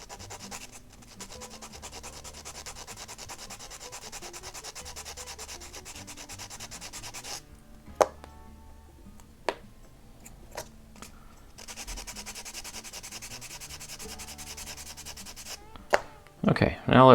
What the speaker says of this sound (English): It might take a little bit of sanding.